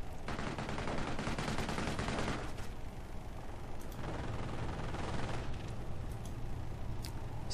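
MG42 machine gun in a World War II game mod tournament, firing long sustained bursts of dense rapid automatic fire, loud and close, with a brief lull before more bursts and scattered gunfire around it.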